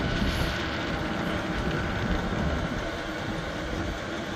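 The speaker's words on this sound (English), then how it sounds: "I can hear the pump getting faster and faster." A Chinese diesel heater's fuel pump and fan run as a steady, loud mechanical drone with a fine rapid rattle, holding an even level throughout.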